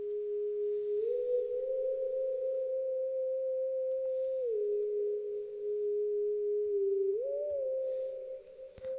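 Spooky theremin-like synth voice built in Ableton Live's Wavetable with reverb: a pure, steady singing tone that holds and glides smoothly up and down between pitches, ringing alone with a soft reverb tail.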